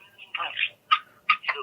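A telephone call rings out with a ringing tone in short bursts, about four separated pulses at close range, with no other sound around them.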